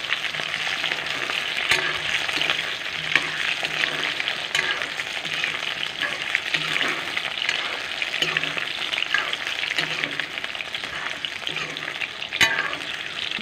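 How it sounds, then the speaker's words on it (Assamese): Potatoes sizzle steadily in hot oil with onions in a pan, a dense, even crackle with occasional soft stirring knocks and no voices. "এতিয়া আলুখিনি অলপ টাইম ভাজি ল'ম।"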